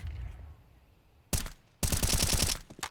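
Counter-Strike gunfire on the Inferno map, sprayed through smoke: a single sharp shot, then a dense rapid burst of automatic fire with a few trailing shots, loud and close over a quiet low rumble.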